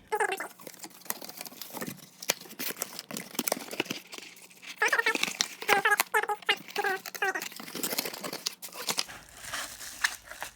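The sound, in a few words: assembling a Priority Mail flat rate cardboard box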